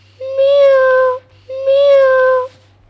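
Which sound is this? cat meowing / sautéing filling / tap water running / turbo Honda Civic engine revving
cat meowing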